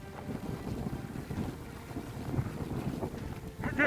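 Wind buffets the microphone outdoors in wind and rain, a steady low rumbling roar that swells and gusts throughout, growing louder near the end.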